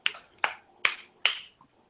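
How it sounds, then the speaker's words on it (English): Four sharp hand claps into a microphone during a podcast, spaced about 0.4 seconds apart in a steady rhythm, close and crisp with no talking. "Everybody, clap your hands in your mic."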